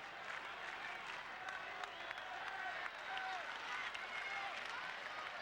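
A large baseball crowd at Fenway Park roars and claps during a Red Sox game against the A's, a steady wash of distant cheering with scattered claps and faint whistles.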